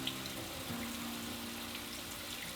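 Water runs steadily and softly through a mesh strainer to rinse soaked beans, a faint continuous trickle.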